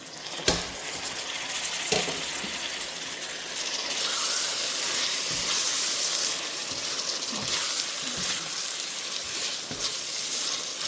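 Tomatoes and capsicum fry with onions in a pan, a steady broadband sizzle with a few sharp clinks of a spoon against the pan, no voices.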